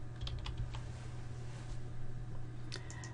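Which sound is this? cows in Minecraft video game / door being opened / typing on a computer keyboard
typing on a computer keyboard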